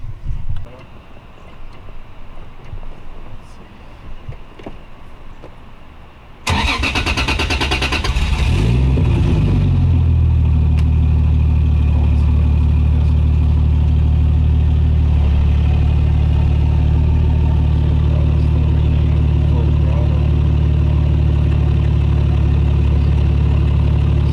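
A Toyota Supra engine cranks and catches after a few quiet seconds, then settles into a loud, steady close-up idle that lasts to the end.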